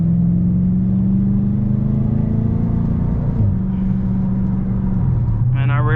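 A modified Dodge Charger R/T engine drones steadily from inside the car while driving, a low continuous hum that shifts pitch slightly, with a brief rising whine near the end.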